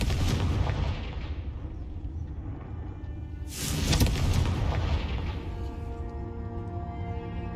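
Confringo fire spell from Hogwarts Legacy bursting in two heavy explosive booms a few seconds apart, each with a sharp crack and a long rumbling decay, loud and close with no speech.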